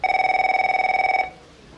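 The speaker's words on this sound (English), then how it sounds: "Phone. It's your office." A telephone bell rings in a scene from the film Se7en: one continuous electronic trill of steady pulses, loud and close, cutting off abruptly after about a second, with no talking.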